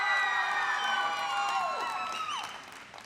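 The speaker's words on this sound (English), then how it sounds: "That must have been the applause of everybody in the state of Montana." An event audience claps, whoops and cheers in a sustained, dense roar that tapers off toward the end, with shrill cheering voices rising over the clapping.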